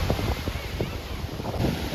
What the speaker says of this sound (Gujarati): પવન થોડોક વધારે છે અતિશય નહીં પણ થોડો વધારે છે